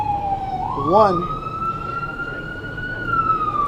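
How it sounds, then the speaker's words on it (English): An ambulance siren sweeps past, a steady rising wail close by with a brief warbling yelp near the start, heard at an outdoor officials' briefing with a voice speaking a word over it. "I'll let that ambulance go by"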